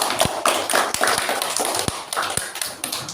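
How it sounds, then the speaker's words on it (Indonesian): A classroom of students claps together, a light, uneven patter of hand claps with sharp individual smacks rather than a dense roar, fairly close and continuing for a few seconds. "Tepuk tangan buat kita semua."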